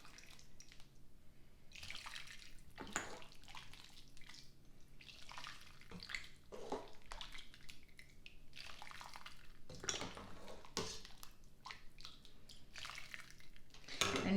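Homemade chicken stock drains through a strainer in a kitchen, with quiet trickling and dripping in irregular bursts and a few soft clinks of a pot, faint and close.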